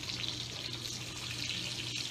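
Hot dogs fry in Bright Leaf bacon grease, giving a continuous, even sizzle and crackle from up close for the whole stretch, with no voices.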